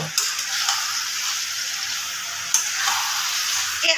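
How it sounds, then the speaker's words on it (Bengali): Chicken sizzles steadily as it is sautéed in a pan over a raised gas flame, cooked mutton-style. The close, even frying hiss runs throughout, with a few soft clicks and stirs and no talking. "এবার গ্যাসের ফ্লেমটা একটু বাড়িয়ে আমি আরও খানিকক্ষণ ধরে চিকেনটাকে কষে নেব"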